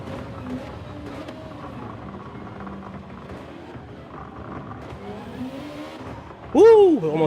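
Gran Turismo 7 race car engine droning through a daily race, with a sudden loud tyre squeal near the end as the car nearly spins out, while someone talks over the engine sound.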